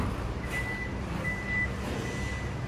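A 2024 Toyota Fortuner power tailgate operating, giving a few thin electronic beeps over a steady background hum, with talk nearby.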